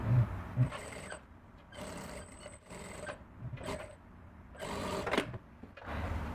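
A sewing machine runs a stay stitch along a blouse neckline in several short bursts with brief pauses between runs, close and moderately loud.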